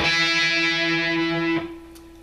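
Distorted electric guitar octave chord rings out loud and steady for about a second and a half, then is abruptly muted, leaving a faint fading tail.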